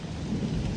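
Thunder rolls in low and steady over rain at the start of the monsoon season, a continuous deep rumble with no voices.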